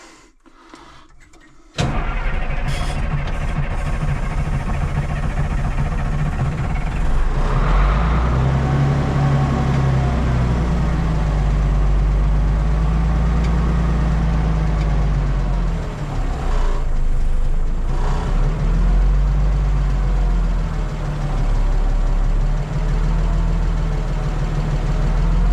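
A Ford 6.0 diesel pickup engine runs steadily with light throttle, a loud, continuous low rumble that holds for most of the stretch after a brief quiet start, with no voices over it.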